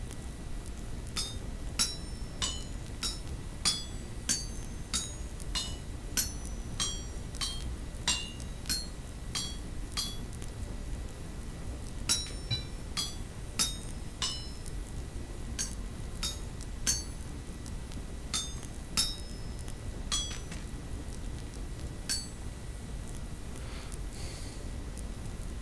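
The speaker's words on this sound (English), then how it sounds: "Because you're going to need a hammer." Hammer strikes in the crafting game Vintage Story, sharp metallic clinks repeating in quick irregular bursts with short pauses, moderately loud over a low steady background hum.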